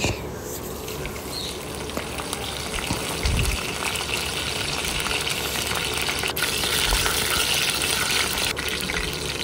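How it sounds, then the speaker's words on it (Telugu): Mustard seeds and curry leaves frying in hot oil for a Telugu-style bitter gourd fry, a steady hiss and crackle with a few soft pops throughout, close up. "అలాగే ఒక 2 రెబ్బల కరివేపాకుని కూడా వేసి ఆయిల్లో ఫ్రై అవనివ్వండి."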